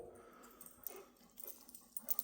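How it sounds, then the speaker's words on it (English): Pet dogs, including a Labradoodle, make faint, soft whimpers and little whines in short scattered bursts, quiet and close, with no talking. "Them there are my dogs."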